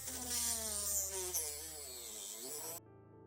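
A power drill whirs into a baked Themberchaud dragon sculpture, its close, steady whine rising and falling in pitch for nearly three seconds before cutting off abruptly.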